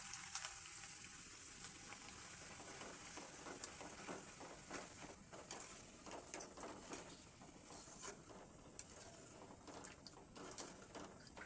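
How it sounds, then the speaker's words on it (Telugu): Corn mixture frying in hot oil, a steady dense crackle and sizzle with scattered sharper pops, close and fairly quiet, with no voices. "నూనె వేసుకుంటే ఇట్లా గోలుతాయి"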